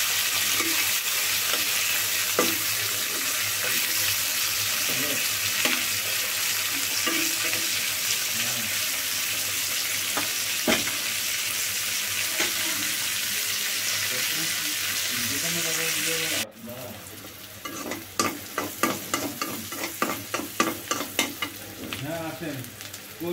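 Tengra fish frying with radish in a pan, a steady loud sizzle with occasional stirring scrapes, then a sharp drop to quieter bubbling and clinking near the end.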